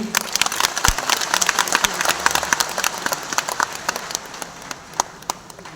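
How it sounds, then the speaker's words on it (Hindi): Audience applause at an award ceremony, many hands clapping in a dense, crackling patter that stays fairly loud and even before slowly thinning toward the end. "जोर से तालियां तो होनी।"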